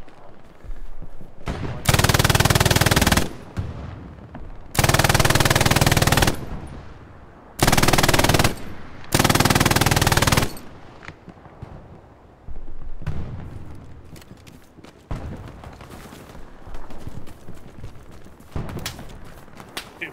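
Heavy automatic gunfire in the World War II shooter Hell Let Loose, coming in four loud sustained bursts with quieter scattered shots and distant firing between them.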